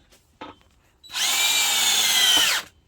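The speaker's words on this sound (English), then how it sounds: "I'm putting 3-inch screws down in it, so I got plenty to hold with." A power drill drives 3-inch screws into wood while building a seed-starting greenhouse: one loud, steady whirring burst of about a second and a half, close up, preceded by a brief knock.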